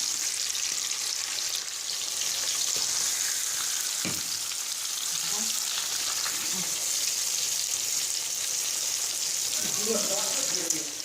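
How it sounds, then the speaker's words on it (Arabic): Escalopes seasoned with salt and black pepper sizzle steadily in a pan, a broad continuous frying hiss with a brief clack and faint voice murmurs in the background. "نخليهم يتقلاو هكذا"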